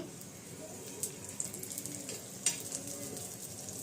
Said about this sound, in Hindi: अब इसको अच्छी तरह से क्रिस्पी होने तक फ्राई कर लीजिए लो टू मीडियम फ्लेम पे।